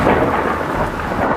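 A deep rumble of thunder rolls under a constant wash of rain, full and close throughout the short stretch.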